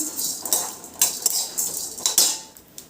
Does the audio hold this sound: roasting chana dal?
yes